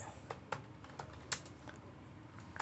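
Quiet, irregular keystrokes on a computer keyboard while an SQL update query is typed, with a few sharper taps standing out among softer clicks.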